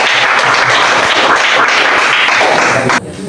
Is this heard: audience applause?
yes